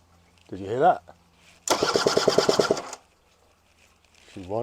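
A Honda Vision scooter engine cranks in a single rapid burst of rhythmic starter pulses lasting about a second, close and loud, with a voice speaking just before and after.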